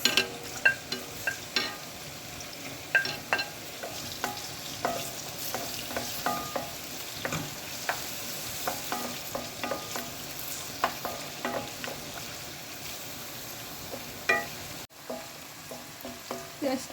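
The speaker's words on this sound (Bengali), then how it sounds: "এখন তেল দিয়ে দিচ্ছি তেজপাতা দারচিনি এলাচি পেঁয়াজ" Bay leaf, cinnamon, cardamom and onion fry in hot oil for chicken ghugni, giving a steady close sizzle with frequent scraping clicks of a spoon stirring through the pan throughout.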